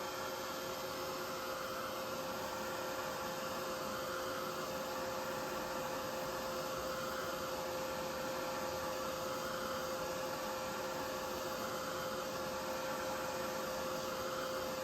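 A heat tool blows steadily while drying paint on a handmade puffin card, a continuous loud whirring hiss with a faint high whine that holds unchanged from start to finish, with no talking.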